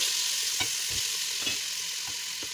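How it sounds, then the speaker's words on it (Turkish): Chopped dry onions frying in a little vegetable oil, a steady close hiss of sizzling with soft scraping stirs at intervals, no talking. "Kuru soğanı da ekleyelim. Biraz kavuralım 1-2 dakika kadar."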